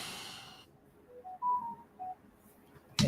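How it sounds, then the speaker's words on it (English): Phone notification dings: a short run of soft, rising electronic tones in a quiet room, followed by a sharp click at the end. "my phone is bing, bing, bing, bing, ding, ding, ding, ding, ding"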